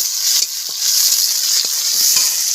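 Chopped onion sautés in a pan with bay leaf, a loud continuous hiss of frying oil close by, broken by several quick stirring scrapes; no one speaks.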